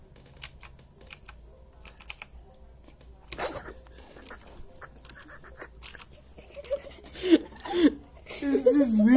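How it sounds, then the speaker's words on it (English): Keyboard typing with a steady run of light key clicks, partly under talk, growing louder and busier toward the end. "This is really nice keyboard ASMR."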